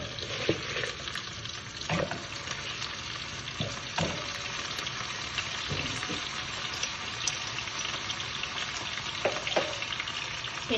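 Crab pieces sizzling steadily in a pan for a Sri Lankan crab dish, a continuous bright frying hiss broken by a few louder crackles and stirring scrapes, close and alone with no talk.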